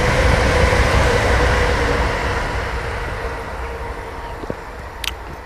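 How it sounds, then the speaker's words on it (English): A train passes outdoors as a steady, loud rumble with broad roaring noise that slowly fades over several seconds, with a few faint clicks near the end. "There's a train coming,"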